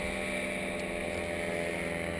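A paramotor engine drones continuously and evenly during a takeoff run at an airfield paramotor school. The buzz is loud and unbroken, mixed with wind noise.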